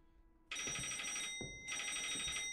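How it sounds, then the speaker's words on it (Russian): Telephone ringing in a video game, two long electronic bell-like rings separated by a short gap, fairly clear and close with no talk. "Телефон!"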